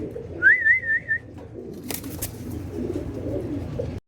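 Pigeons at a pigeon farm that sells birds wholesale, heard as a short warbling bird call near the start over a quiet background with faint shuffling and a sharp click near the end.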